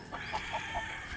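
Backyard pet chickens clucking softly, a few short, faint, separate clucks in a quiet outdoor setting.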